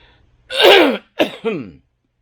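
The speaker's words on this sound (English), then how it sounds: "I'm going to cough here for a second." A person coughs three times at close range: one long, harsh cough followed by two shorter ones, with silence before and after.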